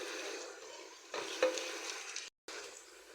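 Vegetables, potatoes, long beans and spices frying together for vegetable khichuri, giving a soft steady sizzle with light stirring scrapes and one brief gap, quiet and without talking.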